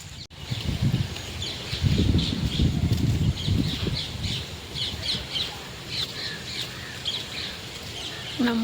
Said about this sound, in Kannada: ಪಕ್ಷಿಗಳ ಸೌಂಡ್ ಜಾಸ್ತಿ.